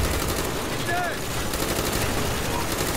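Rapid automatic gunfire crackles continuously in a Call of Duty Black Ops firefight, dense bursts layered with game sound effects and mixed with talk.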